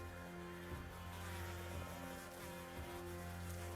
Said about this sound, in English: traveling into fog, buzzing insects, ominous splashing sounds in the distance.